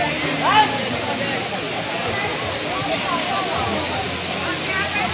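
Batlag Falls roars in a steady, dense rush close by, with a voice briefly speaking over it near the start.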